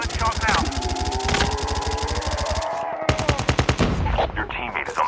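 Rapid automatic gunfire in a Call of Duty battle royale match, with dense bursts for about three seconds, a short gap, then more sharp shots, while game announcer voice lines and other sounds run underneath.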